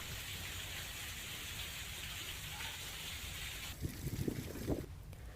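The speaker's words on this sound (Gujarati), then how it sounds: "ધારી, સરસિયા, ખોખરા સહિત આસપાસના વિસ્તારોમાં વરસાદની શરૂઆત થઈ છે" Rain falls over the Dhari, Sarasiya and Khokhra area of Gir Somnath as a steady, even hiss with some wind, joined near the end by a few soft, closer patters.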